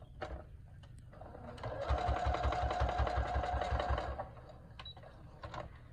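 A sewing machine stitches a straight half-inch seam across layered fabric for a filter face mask, its rapid needle chatter rising for about two seconds in the middle, moderately loud, with quieter handling sounds around it.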